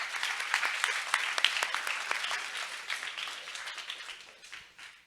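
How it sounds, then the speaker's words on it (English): An audience at a university startup demo day gives a round of applause, a dense, steady wash of many hands clapping that fades gradually toward the end. "Can we please give a big round of applause to Liv?"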